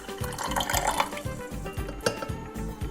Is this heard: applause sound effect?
no